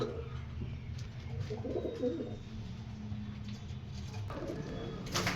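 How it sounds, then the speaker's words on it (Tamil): A pigeon nesting on its eggs in a garden coos low and soft, the faint calls sitting under steady outdoor background noise. "குஞ்சு வைக்கிறதுக்கு ஒரு புறா உட்காந்துக்குது பாருங்க"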